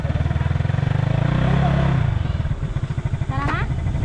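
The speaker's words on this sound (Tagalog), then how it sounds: "Titignan natin kung okay nga ba yung takbo ng motor na to." Yamaha Mio Sporty scooter engine running during a ride, a steady close putter with a brief rev swell near the start and people talking over it.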